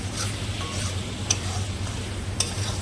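Dried fish chutney with garam masala frying in a pan, a soft continuous sizzle with a few light stirring scrapes and two brief sharp taps of a utensil on metal, close and quiet.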